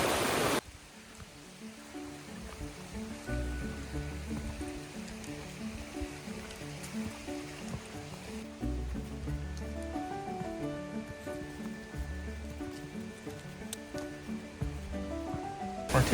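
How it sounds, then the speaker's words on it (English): Steady broadband rush of a waterfall spilling into pools along a summer hiking trail, continuous and fairly close throughout, with tonal music playing over the water noise. "We're taking a brief little detour off the trail to look at this other beautiful waterfall"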